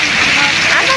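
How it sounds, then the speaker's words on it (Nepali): Heavy rain gives off a dense, steady roar of hiss that fills the whole second, loud and close, with no break in it. "साथीहरू पानी ठुलो परिरहेछ हेर्ने यहाँ"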